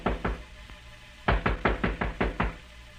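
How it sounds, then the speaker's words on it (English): Knocking on a wooden door in a 1947 radio crime drama: two sharp raps, a pause, then a quick run of six or seven firm knocks, close and alone in a quiet room. "Suddenly there was a knock on the door."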